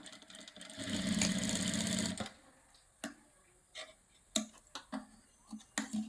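A sewing machine stitching fabric piping runs in a fast, even whirring burst for about a second and a half, then stops, followed by scattered clicks and light handling of the fabric nearby.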